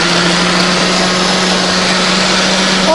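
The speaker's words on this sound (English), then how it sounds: "To be on the safe side, we'll put the blender on" A countertop blender mixes a drink topped up with milk, running as a loud, continuous, steady motor whine with a broad rushing noise throughout.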